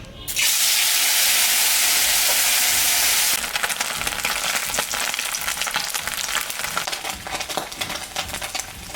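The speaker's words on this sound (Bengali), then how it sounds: "আমি এখন মাছটা ছাড়বো, তেল গরম হয়ে গেছে।" Chela fish dropped into hot mustard oil in a pan burst into a loud, bright sizzle that settles into steady close crackling and spitting.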